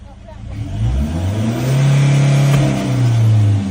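A car engine climbs from idle into a sustained high-rpm rev, its droning note holding steady near the camera. A test is being run on whether black exhaust smoke can be eliminated.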